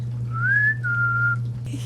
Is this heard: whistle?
yes